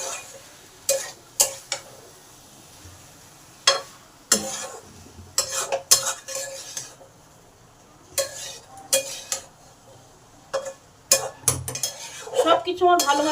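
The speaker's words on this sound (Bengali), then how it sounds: "এইগুলো মশলার সঙ্গে একটু ভালো করে কষে নেব।" Fried potatoes and pointed gourd are stirred with spices in a pan, giving intermittent scraping clanks of a spoon against metal over a light sizzle, with quiet gaps between strokes.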